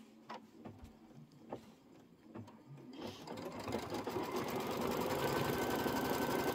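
An embroidery machine stitches down a folded-back fabric piece on a seasonal table runner, starting with a few scattered clicks and taps before settling into a steady, building mechanical whir of rapid needle strokes that grows louder and continuous.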